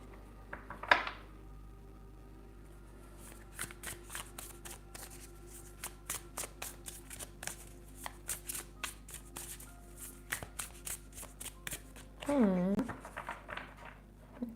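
Riffled tarot cards from a mixed pairing of the Animal Tarot and Superlunaris decks give a long run of rapid crisp flutters and taps, close and steady, with brief voice sounds near the start and end.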